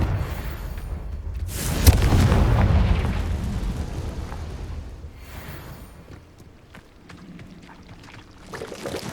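A Confringo spell explosion in Hogwarts Legacy bursts with a deep booming roar that swells for a couple of seconds and then decays into rumbling debris, with a fainter burst near the end.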